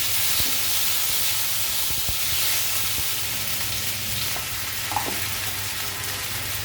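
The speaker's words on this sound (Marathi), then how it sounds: "तेल घालूया घालूया मोहरी घालूया जिरं ते मी आलं लसूणचं वाटण आहे ते घालते" Mustard seeds, cumin and ginger-garlic paste frying in hot oil for a Maharashtrian eggplant and potato curry, giving a steady broadband sizzle with a few faint pops and stirring clicks, close and continuous without talk.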